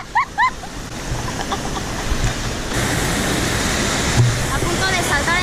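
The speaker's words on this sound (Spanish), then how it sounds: "A punto de saltar en las cascadas" A waterfall in the Huasteca region roars as a steady broadband rush that grows slightly louder midway, with a couple of brief bird chirps near the start.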